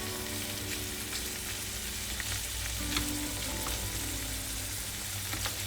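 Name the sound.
prawns frying in a hot pan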